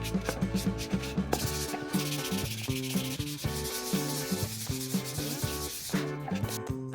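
Steady back-and-forth fine sandpaper rubbing on MDF board, rhythmic scratchy strokes, close up, with a faint tonal hum of background music underneath.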